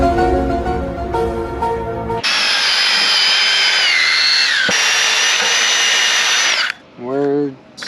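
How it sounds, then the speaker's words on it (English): Power sander working over peeling paint on a jet ski trailer, a loud, steady whining grind with shifting pitch and a short pause, preceded by some mechanical clatter and ending with a brief voice. "We're sanding this part where it's like all the paint's peeling."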